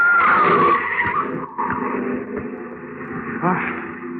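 A car skids with a loud, drawn-out tire squeal in an old radio drama street scene, sliding and fading over about four seconds, close and prominent, with faint voices in the background.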